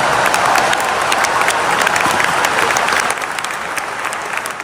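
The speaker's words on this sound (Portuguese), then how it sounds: "médicos e pesquisadores se levantaram para aplaudir" Doctors and researchers applauding at a clinical oncology congress in Chicago, sustained loud clapping from a large audience in a big hall, easing slightly toward the end.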